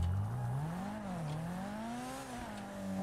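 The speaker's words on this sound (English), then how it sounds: "Sounds like it's got an old school engine in it. A muscle car engine." A video game car's muscle car engine drones with a deep, rumbling tone that rises and falls as it revs, steady and continuous throughout.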